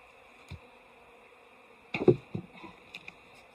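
Honeybees at an opened hive in a subarctic apiary during feed changes for winter prep give a faint steady hum under a cluster of knocks and thumps from handling hive parts nearby.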